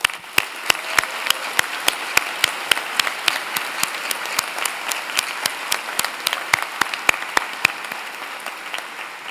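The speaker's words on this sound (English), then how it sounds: "I would ask you to join me and the platform party in thanking them with a vigorous round of applause." Applause at a fall university convocation for dentistry, law, nursing and pharmacy, a large audience clapping loudly and steadily in a sustained wash with distinct individual claps standing out, no voices over it.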